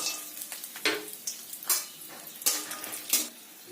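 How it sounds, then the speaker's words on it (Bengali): Peanuts fry in oil in a wok and are stirred, sizzling at a low level, with a scrape or rattle every second or so over a quiet background, close by. "কড়াই তেল বসিয়ে দিয়েছি ওই তেলের মধ্যেই বাদামগুলোকে ভেজে নেব"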